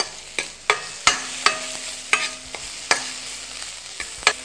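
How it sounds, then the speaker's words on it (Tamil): Ginger sautéing in a pan, a continuous soft sizzle broken by regular sharp metallic clinks of a ladle striking the pan about every half second, close and clear with no voices. "இப்போ இஞ்சி வதங்கிடுச்சு"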